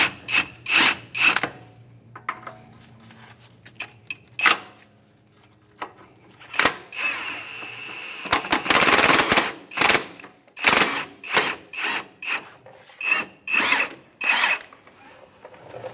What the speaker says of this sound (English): just use the impact, see if we can back that bolt out on its own